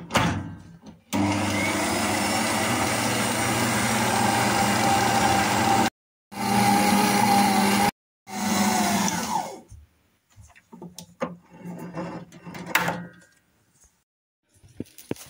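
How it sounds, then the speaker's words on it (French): Croissant dough being passed through a dough sheeting machine, whose loud, steady motor hum runs in long stretches broken by two brief pauses, then gives way to scattered handling clatter. "Je vais la passer à la machine."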